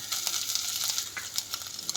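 Garlic paste fries in hot oil over a low flame for dhaba-style paneer tikka masala, making a close, continuous crackling sizzle. Occasional stirring pops and clicks sound throughout, with no talking.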